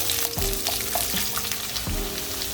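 Chopped onion fries in a pan for sweet and sour pork, giving a steady close sizzle broken by a few soft clicks and scrapes, with no talking.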